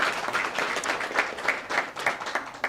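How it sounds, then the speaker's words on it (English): A crowd claps steadily at a Sacco's official launch and office opening, a dense, continuous patter of many hands with a faint rhythmic pulse and almost no talking. "let's clap our hands."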